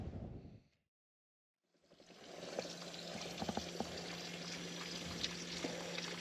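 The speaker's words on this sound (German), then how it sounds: "Hier brutzeln die Eier." Eggs sizzling in a pan at breakfast in a camper van, a steady close hiss and crackle with a few sharp pops, following a brief cut to near silence at the start.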